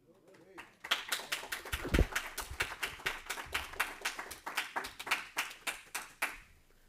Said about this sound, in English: give another applause, please